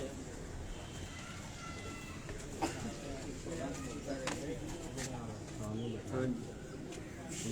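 A pigeon coos on a rooftop pigeon-flying setup in Kasur, soft repeated low calls set against constant outdoor hum and someone talking.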